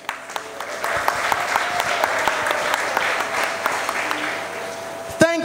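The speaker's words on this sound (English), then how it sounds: "Round of applause to yourselves." Graduates at a 2020 graduation ceremony applauding themselves, a steady, fairly loud wash of clapping from a crowd lasting several seconds, with a brief voice or mic noise at the end.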